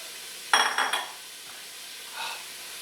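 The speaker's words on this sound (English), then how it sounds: "Love the sizzle." A brief crackling burst of chopped onion hitting hot olive oil, then a quieter hiss and a faint second crackle, with no talking.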